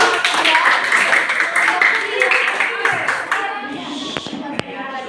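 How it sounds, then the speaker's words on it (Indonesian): Classroom applause for a student group, a burst of many hands clapping that fades out over a few seconds, with voices talking over and after it and a couple of sharp knocks near the end. "tepuk tangan dulu buat kelompok."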